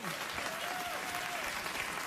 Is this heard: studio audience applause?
yes